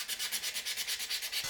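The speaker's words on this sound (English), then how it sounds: "a quick sanding will hide all your deceptively bad work" Hand sanding on wood: quick, even back-and-forth strokes, about eight in rapid succession, close and fairly loud with a gritty, hissing texture.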